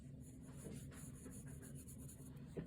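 A graphite pencil scratches across paper in soft, steady strokes while the edges of a Bargue shading drawing are cleaned up, close and quiet with a continuous rubbing texture.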